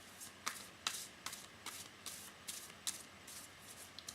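Tarot cards shuffled by hand in a quiet room, a series of soft, crisp riffles and taps roughly every half second, close and faint with no talking.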